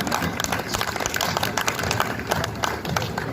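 An audience at a poetry recital in a Churu entertainment club claps steadily, a dense and even burst of applause from a crowd close by, with no speech over it.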